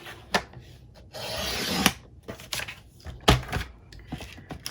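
Cardstock is cut away for a card pocket, with a long scraping slice in the middle among crisp clicks and taps of the blade and paper. The sounds are close and quiet, and no one speaks.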